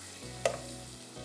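A brief hot sizzle as tadka tempering hits oil in a pan, a short crackling burst over a quiet kitchen background.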